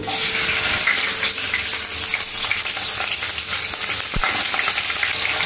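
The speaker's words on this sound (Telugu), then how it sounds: "1 స్పూన్ వరకు జీలకర్ర, ఆవాలు జీలకర్ర కాస్త ఫ్రై అయ్యాక అందులో 3 పచ్చిమిరపకాయ ముక్కలు వేసుకోవాలి." Cumin, mustard seeds and green chilli pieces fry in ghee for a mint chutney, giving a loud, dense, continuous sizzle close up, with faint stirring and a single sharp knock near the end and no talking.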